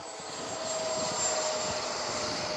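An E-flite F-16 Thunderbirds 80mm ducted fan RC jet runs at full throttle, giving a steady, high-pitched whooshing whine heard from a moderate distance without speech.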